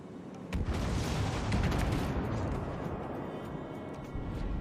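Warship guns fire in World of Warships Legends, a heavy booming salvo that swells into a long, loud rumbling roar with crackling bursts. A fresh blast strikes near the end. No voices.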